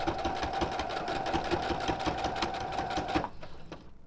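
A sewing machine runs steadily while back stitching a seam on a New Look 6035 skirt, its rapid needle clatter continuous for about three seconds before cutting off into quiet.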